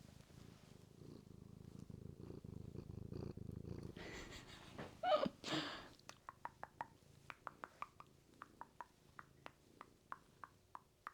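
A low, steady purr rumbles up close for several seconds, followed by rustling and a series of evenly spaced light clicks.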